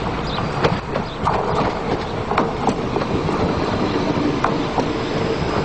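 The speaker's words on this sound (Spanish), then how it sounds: "los nuevos Civia, que ya ruedan por las cercanías de las capitales españolas" A Renfe Civia commuter train runs on a Spanish suburban line, a steady loud rumble with repeated rail clicks and a faint wheel squeal, close by.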